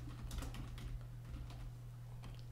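Someone types a channel name on a computer keyboard with a quick run of soft, close key clicks. A steady electrical hum runs underneath and no one talks.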